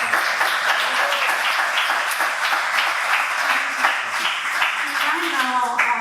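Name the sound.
audience applause for Alex after Q&A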